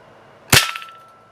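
A single sharp shot from a Crosman Legacy 1000 .177 air rifle firing a red flight pellet, loud and close, with a brief ringing tail as it fades in otherwise quiet surroundings.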